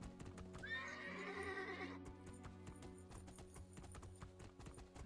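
A horse in the fantasy video game Two Worlds II clip-clops along in a quick, regular gait and lets out a loud whinny early on, with the hoofbeats carrying on steadily afterward.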